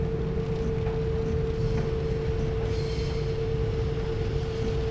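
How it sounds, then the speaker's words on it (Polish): An oncoming freight train in the Train Simulator Classic video game: a steady low rumble with a sustained mechanical tone, heard at a moderate level without speech. "Z naprzeciwka pociąg towarowy."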